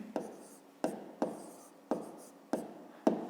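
A pen writes down an answer to a fifth-grade maths exercise, giving six distinct, evenly spaced scratchy strokes up close.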